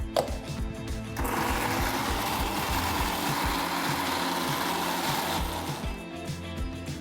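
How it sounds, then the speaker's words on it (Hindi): Mixer grinder whirring as it grinds onions into a fine paste, a steady loud motor drone running for about five seconds with brief starts and stops at either end. "प्याज को इस मिक्सर ग्राइंडर में डालूंगा और इसका एक फाइन पेस्ट बनाएंगे।"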